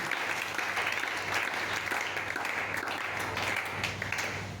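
A church congregation at a Friday teaching service applauds and acclaims the Lord with steady, dense clapping that fills the room evenly from start to finish.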